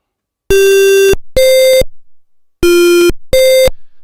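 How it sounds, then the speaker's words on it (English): Four pure, buzzy SID-style synthesized tones made in maxYMiser, in two pairs, each pair a lower note then a higher one, steady and loud with brief silences between. "It sounds surprisingly like a sine wave given the restriction on this level."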